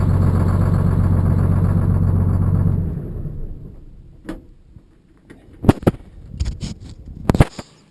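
A Detroit Diesel Cannonball engine idles with a low, steady rumble for about three seconds, then shuts down and winds away to quiet, followed by a few sharp clunks and knocks nearby.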